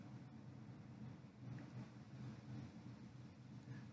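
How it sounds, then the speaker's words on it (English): A thunderstorm rumbles outside with low rolling thunder and soft rain hiss, faint and distant, steady throughout with no talk. "Sounds like a storm out there."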